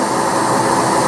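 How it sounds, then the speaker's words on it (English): A workshop dust collecting system, hooked to a hose, runs loud and continuous as a steady broadband whoosh and hum without any pause. "what you hear is my funky dust collecting system"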